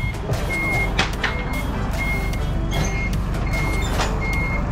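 A Canter truck reverses with a steady, evenly spaced beeping alarm over its low rumbling engine, close by and continuous.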